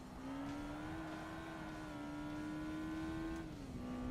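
Lotus car engine in Forza Motorsport holding a steady high drone that climbs slightly, then drops near the end, faint and continuous with no talk.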